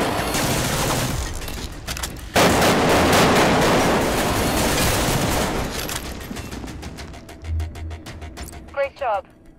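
Gunfire in the virtual reality game Arktika.1, dense rapid shooting that swells into a loud sustained barrage, then thins into scattered shots and fades with a few closing electronic blips.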